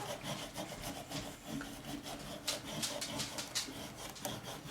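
Vinyl being rubbed firmly onto a painted surface for a pumpkin patch craft, a steady scratchy scraping with rhythmic back-and-forth strokes, close and continuous with no talking.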